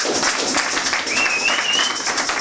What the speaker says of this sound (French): Applaudissons pour Papa Placide.